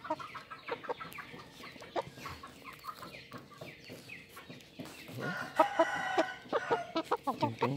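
A young rooster of a Thai fighting-cock breed crowing and clucking close by, several rough calls over about eight seconds, the loudest crow coming near the end, with no talk.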